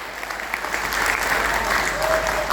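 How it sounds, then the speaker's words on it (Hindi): A crowd claps loudly and continuously, a dense patter of applause building slightly and holding steady. "एक बार जोरदार तालियां।"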